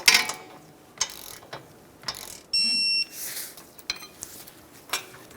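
A ratchet tightens a control arm bolt on a Chevrolet Sonic, giving several quick, close clicking bursts spaced apart, with a brief steady electronic beep partway through in an otherwise quiet garage.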